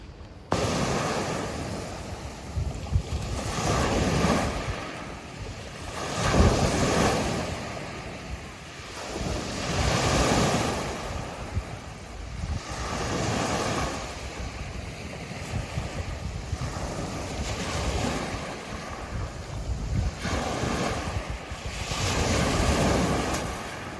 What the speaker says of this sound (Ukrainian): Це хвилі великі, але це в принципі дуже не заважає.